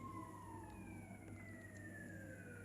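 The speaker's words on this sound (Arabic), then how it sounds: "صوت بوليس بره" Police siren wailing outside in the horror video game Psychopath House, with a steady descending siren tone under a low constant hum, heard faintly and at a distance without any talk.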